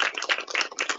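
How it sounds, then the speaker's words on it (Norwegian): An audience at a Norwegian talk about Statens Barnehus applauds after a speaker thanks Knut, producing a dense, steady burst of clapping with no talk over it. "Han får en applaus."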